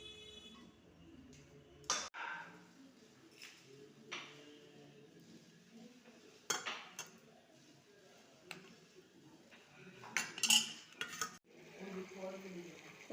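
Taro being stirred with spices in a pan: scattered metal clinks and scrapes of a utensil against cookware, sparse and fairly faint, with quiet gaps and a soft sizzle underneath.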